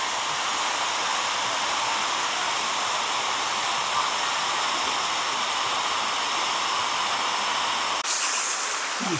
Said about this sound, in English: And at the lower front of that building is a waterfall.